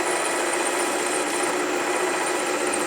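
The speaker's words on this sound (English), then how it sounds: "as you're drilling." A drill boring a hole in stainless steel gives a steady, dense high whine that stays even and close for a few seconds, with no talk over it.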